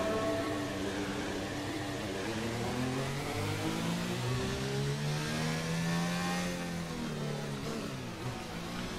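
A Formula One racing car in F1 2019 revs hard, its engine pitch rising and falling in sweeping gear-change arcs, close and loud with no voices.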